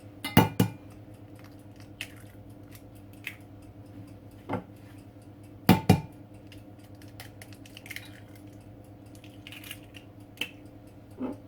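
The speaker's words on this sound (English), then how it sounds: "Going to break 5 eggs." Five eggs cracked into a bowl of milk for a cauliflower and spinach quiche filling, heard as a few sharp knocks and wet taps spaced several seconds apart against a quiet kitchen background.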